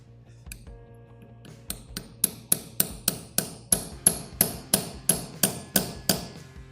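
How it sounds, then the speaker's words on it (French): A hammer taps a part into a PSA TU engine during a restoration, starting with a few light, sparse knocks and settling into a steady run of about a dozen evenly spaced, sharp metallic taps, close and clear. "on va venir taper délicatement au marteau"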